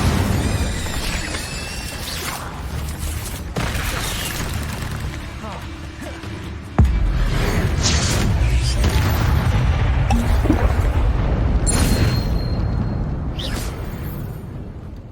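Incendio fire spell going off in Hogwarts Legacy, a sharp sudden blast near the middle followed by a dense roaring, crackling burst over continuous game sound and rumbling effects.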